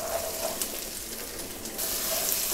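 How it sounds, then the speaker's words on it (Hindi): Peas go into a pan with frying garlic and ginger paste for aloo anda matar, giving a quiet, steady sizzle with a brief brighter burst partway through. "अब मैं इसमें मटर डालूँगी।"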